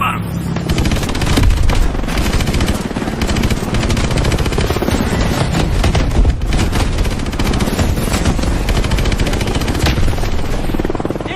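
Automatic weapons fire in a Call of Duty: Advanced Warfare battle, loud and dense, with rapid bursts and booms layered over a continuous helicopter-like roar that fills the whole stretch.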